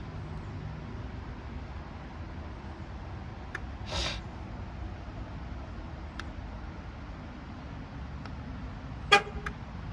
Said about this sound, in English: So there's the honk.